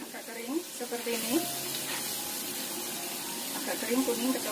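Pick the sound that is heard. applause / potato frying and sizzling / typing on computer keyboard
potato frying and sizzling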